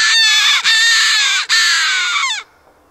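A predator call, turned around and blown to imitate a crow for crow hunting, gives one loud, harsh, drawn-out caw. It lasts over two seconds with two brief breaks, then stops.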